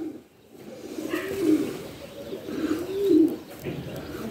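Racing pigeons coo softly in low, rolling phrases, several repeated calls close by in a quiet loft with faint background rustle.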